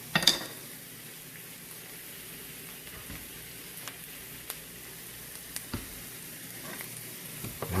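Garlic and onions sautéing slowly in a pan, a soft continuous sizzle with a few faint clicks and stirring taps, quiet and close with no voices.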